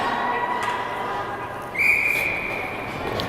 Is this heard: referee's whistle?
yes